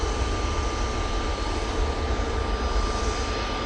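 A jet airliner arriving from Singapore at Manchester airport sends a steady, droning engine roar across the field, continuous and moderately loud for the whole brief stretch.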